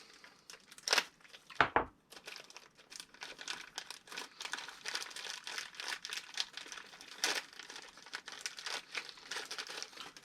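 Packaging being unwrapped from an RC car CVD driveshaft, with close crinkling and tearing of plastic, a few louder rips near the start, then softer continuous rustling.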